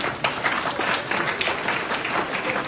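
Audience applause following an Armenian political speech about health insurance and infrastructure, a steady wash of clapping hands lasting throughout, moderately loud with a faint voice or two mixed in.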